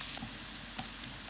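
Garlic, onion and chilies fry in oil at a campsite cook-up, giving a faint, steady sizzle with a few soft crackles throughout.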